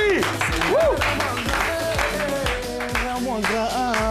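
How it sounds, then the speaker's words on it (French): A television studio audience claps and cheers in a steady, loud ovation, while voices rise and fall with shouting and chanting over the dense wash of clapping. "Maximum d'ovation s'il vous plaît pour Zoski"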